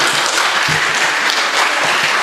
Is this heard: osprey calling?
no